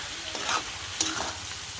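Fried fish head and cabbage are stirred in a pan, with close sizzling and scraping strokes over the brief moment.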